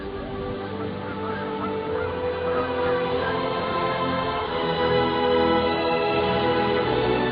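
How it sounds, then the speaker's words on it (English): Geese honk continuously in a loud, dense chorus as birds gather at a whale feeding feast among ice, with calls overlapping steadily throughout. "Naturally, birds also join in the feast."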